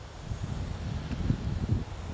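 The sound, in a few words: strong wind blowing outdoors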